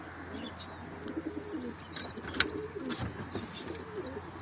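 Pigeons cooing softly in a low, repeated warble over outdoor background noise, with a few brief flutters and chirps mixed in.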